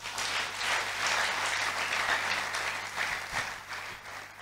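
A church congregation claps for God during an evening service, a sustained, dense round of applause from many hands that swells and gradually eases, with no voices over it.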